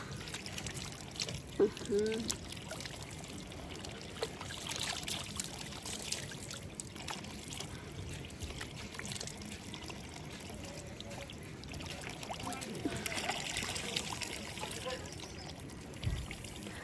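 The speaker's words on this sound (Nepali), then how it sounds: "अब यहाँ आएपछि टक्क यहाँको लोकल पानीले मुख धुनु पर्यो होइन" Local water trickles and splashes as someone washes their face outdoors on a mountain trek in Nepal, with soft pouring and dribbling sounds against a steady outdoor background and some talk.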